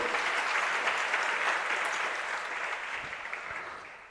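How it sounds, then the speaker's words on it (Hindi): A large audience gathered for a Jain monk's discourse in Shirpur, Maharashtra, claps in a thick, continuous burst that gradually tapers off toward the end. "ये बीच बीच में तो आप लोग ताली बजाते हैं ना"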